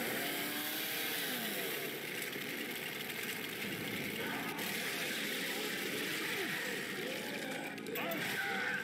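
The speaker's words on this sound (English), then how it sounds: "Chainsaw here." A chainsaw in the video game Left 4 Dead 2 drones with a continuous buzzing engine whine that shifts pitch as it revs, mixed with game sounds and occasional character voices.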